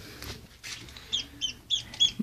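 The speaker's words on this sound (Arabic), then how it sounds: "كيف ما كتشوفوا خروج أول كتكوت ديال الكنار" A newly hatched duckling, out of its egg earlier than expected, gives four short, high chirps in a spaced rhythm. The chirps are close and fairly clear over faint background rustle.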